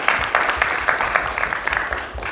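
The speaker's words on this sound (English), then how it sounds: "Give Toastmaster Panida a big round of applause" Applause from a Toastmasters meeting audience: a short burst of steady, fairly close clapping that holds throughout and fades slightly near the end.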